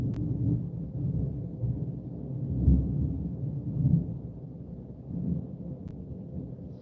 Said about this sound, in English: That's some lightning. Can you hear that?